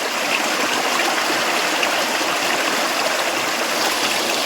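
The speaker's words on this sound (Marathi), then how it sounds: "हे बघा या अशा पद्धतीनं पाणी पडत आहे" Steady rushing water pours and splashes continuously, a dense broadband roar like a small waterfall or stream, close and even throughout with no voices.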